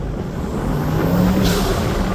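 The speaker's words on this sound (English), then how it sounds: "You can now hear the turbos." Audi RS6 Performance fitted with an Eventuri intake, heard from the cabin as a steady engine drone with a faint turbo whistle and a brief breathy rush midway, continuous and moderately loud.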